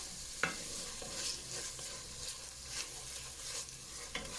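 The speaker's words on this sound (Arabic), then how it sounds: "هنا بعد ما تقلى لي هذاك البصل ندير له ملعقه زبده هكذا، نزيد نعاود نقليه مليح" Chopped onions fry quietly in butter in a pan, a soft, steady sizzle with occasional stirring scrapes, faint and continuous with no voices.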